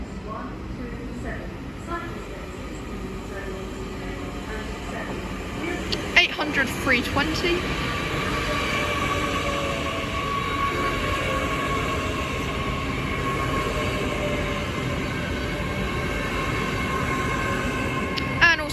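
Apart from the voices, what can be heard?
Great Western Railway IET train arriving at Reading station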